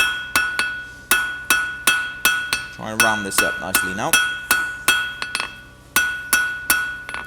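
Rhythmic, ringing hammer strikes on hot steel as a blacksmith forges a bow shackle, bright clangs in quick bursts with brief pauses, a voice speaking briefly midway.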